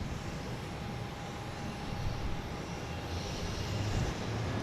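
JetBlue airliner at Boston Logan airport, a steady broadband engine roar held at a constant distance and fairly faint, with no voices over it.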